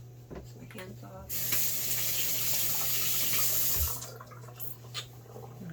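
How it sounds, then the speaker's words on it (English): Tap water runs into a kitchen sink while hands are rinsed, a steady close rush of about three seconds that starts and stops abruptly, with light clatter before and after. "Rinse my hands off."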